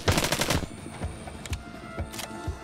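Gunfire in the zombie video game Arizona Sunshine opens with a rapid automatic burst, then continues as a few spaced single shots, loud and close.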